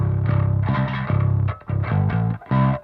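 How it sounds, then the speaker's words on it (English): A gritty, distorted bass guitar through a Crate amp, blended with a clean DI, plays a short heavy metal riff of low, punchy notes, loud and up close, with brief gaps between phrases. "it was a blend of a clean DI with my crate amp's distortion."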